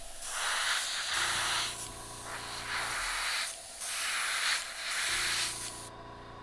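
Airbrush spraying paint onto a bucktail jig at about 20 pounds of pressure, a breathy hiss in several bursts of one to two seconds with short pauses, close and fairly soft, no talking.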